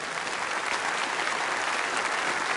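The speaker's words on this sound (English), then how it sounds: "give me a big round of applause" A seminar audience at an internet marketing training gives a big round of applause, thick uniform clapping from many hands, sustained and even throughout.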